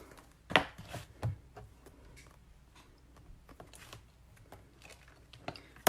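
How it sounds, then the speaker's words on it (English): An ink pad is tapped onto a rubber stamp held in a Stampin' Up Stamparatus tool, making several close, soft dull taps in an uneven burst with quieter handling noises between. "I'm going to ink this up."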